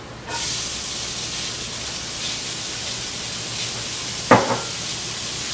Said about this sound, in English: As soon as the garlic and the onion hit the pan